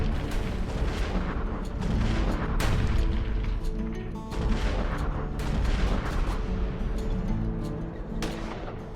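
A Civil War cannon duel, with more than thirty guns firing, sounds as a dense run of heavy booms and rolling rumbles that overlap almost without pause, loud and reverberant, with no speech.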